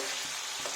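Vetki fish fillet frying in a pan, a steady close sizzle of hot oil throughout with two soft stirring or turning thumps, no voices.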